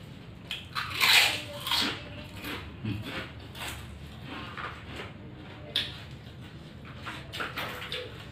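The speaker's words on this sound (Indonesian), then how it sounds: "Ikan asinnya renyah." Crispy salted fish bitten and chewed with loud crunches up close, first in a sharp burst and then in softer chewing crackles, eaten with boiled vegetables and a shrimp-paste chili sauce containing jengkol.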